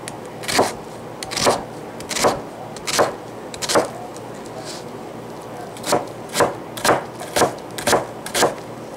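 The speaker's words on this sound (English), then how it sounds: "we're going to take an onion, we're going to chop it into little bitty pieces" A knife chops a medium onion into small pieces on a cutting board, sharp close knocks coming in two bursts of quick rhythmic strokes, about five and then six, with a pause between.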